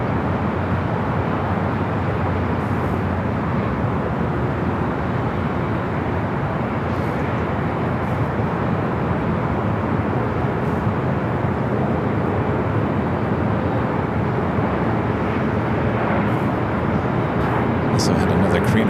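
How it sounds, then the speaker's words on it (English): A Japan Airlines Boeing 777-300ER bound for Tokyo Haneda taxis along taxiway Bravo toward runway 25 right at LAX, a steady broadband jet rumble and whine holding level throughout, with a voice talking over it. "The flight to Tokyo Haneda, the 777-300ER, Japan Airlines, taking the taxiway Bravo down to 25 right"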